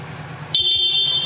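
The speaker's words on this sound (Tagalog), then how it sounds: "Busina." A shrill, steady electric horn on a Kawasaki Z650RS motorcycle blares once and holds for under a second, loud and close.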